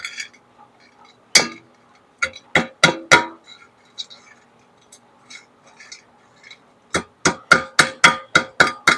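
A lead button from gold smelting is struck to knock slag off, giving sharp metallic taps, first scattered singly and in short groups, then a quick regular run of about a dozen knocks, close and loud.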